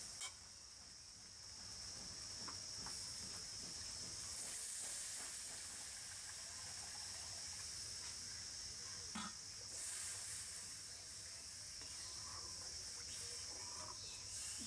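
Water poured into hot oil and spices in a pan hisses in a steady, faint, high-pitched sizzle that holds evenly throughout, with a few small pops.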